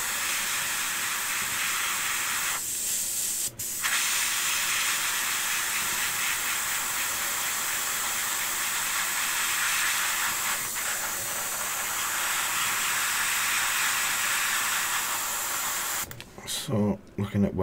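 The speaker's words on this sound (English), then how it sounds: "airbrushing, not making a mess this time" Airbrush spraying paint onto a model ship, a steady close hiss of compressed air that runs almost unbroken, with a short pause near the start and a clatter at the end.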